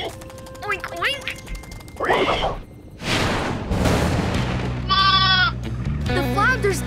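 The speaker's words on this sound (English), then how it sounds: "Couple sheep munching on Mayor Goodway's tulips." Cartoon sheep bleat in a PAW Patrol animal rescue scene, with several short wavering bleats standing out near the end among crashes, music and animated voices talking.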